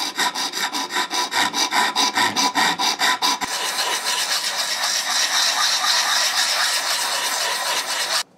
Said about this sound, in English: I'm going to grind this out with a rat tail file